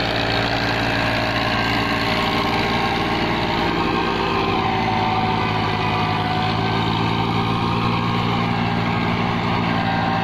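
A New Holland 5500 tractor pulling a 9-foot rotavator through a field, its diesel engine droning steadily and loud for the whole stretch, with no voices.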